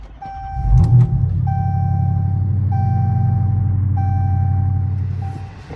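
A Chrysler 300C with a Hemi V8 starts up for the first start of the day: a short cranking burst, then a steady close idle rumble with a repeating electronic chime beeping over it.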